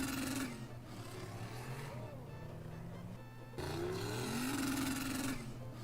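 A V6 car engine playing back from a phone video, revving and droning with rising and falling pitch and a brief drop midway, heard through a small speaker.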